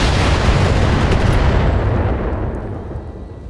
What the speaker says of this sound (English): We'll take a called shot on his front armor. Firing all weapons.